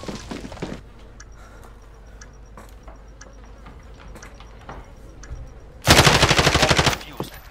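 Automatic gunfire from a shooter video game in a search-and-destroy match, with scattered quieter shots and a loud, sustained burst of rapid fire near the end.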